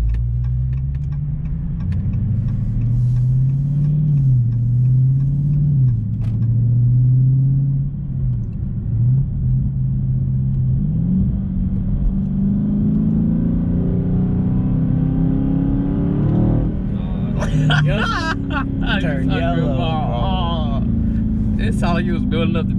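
A Dodge Charger Scat Pack 392 accelerates down a straight, its V8 rumbling low and steady from inside the cabin, the engine note climbing and shifting through the run, with people talking over it.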